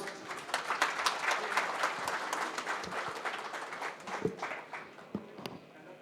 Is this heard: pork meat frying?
no